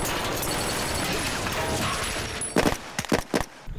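Blank-firing guns on the set of The Walking Dead season 3 episode "Home" go off in a few sharp reports near the end, after a noisy stretch of steady background clatter.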